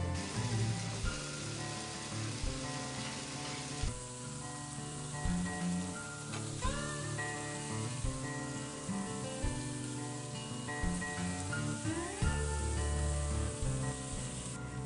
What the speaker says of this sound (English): I'm going to let these cook for exactly 6 minutes per side, turning them only once